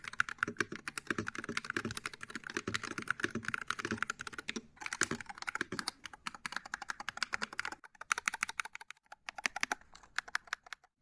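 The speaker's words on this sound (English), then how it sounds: "So here's a quick sound test using these keycaps." Rapid, continuous typing on an Epomaker HE68 magnetic switch mechanical keyboard, crisp clacky keystrokes in quick bursts with a brief pause near the end, close up and with no talking.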